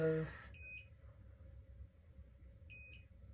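An automatic hair curler gives two brief, faint, high electronic beeps spaced about two seconds apart against a quiet room, just after a short spoken sound.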